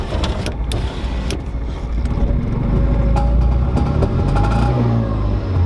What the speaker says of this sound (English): it revs up a lot faster now